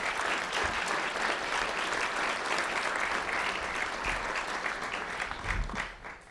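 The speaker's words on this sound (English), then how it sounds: "Please give them a round of applause." Luncheon audience at the National Press Club applauding for guests, a full, sustained round of clapping that fills the room evenly from start to finish before tapering off slightly at the end.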